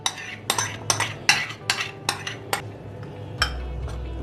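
Yogurt being added and stirred in a metal bowl for kadhi, a series of sharp, close clinks and scrapes of a spoon against the rim, irregular in rhythm, with a low hum beneath.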